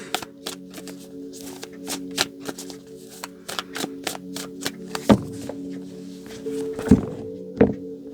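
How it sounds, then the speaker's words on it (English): Large oracle cards being shuffled with irregular riffling flicks and soft thumps, close by, with a few louder knocks toward the end. "These cards are so big. They're hard to shuffle."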